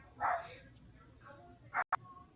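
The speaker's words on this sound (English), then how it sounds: "My dog was barking at me" A dog barks indoors at a distance, two or three quick faint yips spread across a couple of seconds over quiet room noise.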